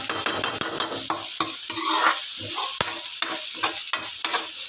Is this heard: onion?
yes